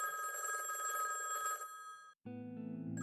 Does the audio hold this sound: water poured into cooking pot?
no